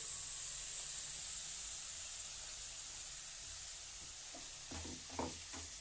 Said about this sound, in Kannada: ಹಸಿಮೆಣಸಿನ್ಕಾಯಿ ಪೇಸ್ಟ್ ಮಾಡ್ಕೊಂಡಿದ್ದೀನಲ್ಲ ಅದನ್ನು ಹಾಕ್ತಿದ್ದೀನಿ